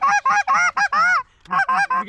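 Geese honk loudly and close at a Pennsylvania goose hunt, a rapid run of repeated calls that breaks off briefly and then starts again, with no talk over them.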